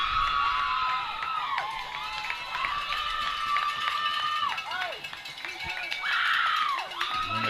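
A high-school football crowd cheers and shouts at a Forrest City Mustangs home game as the kickoff goes up, a broad sustained roar with whoops and shrill voices swelling and easing across the stands.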